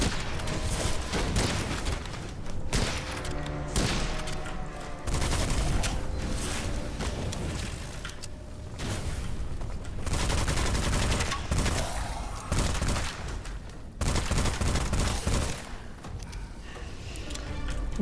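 Rifle gunfire in the Witchfire video game, rapid repeated shots in dense bursts with short gaps, loud and close, with no voices over it.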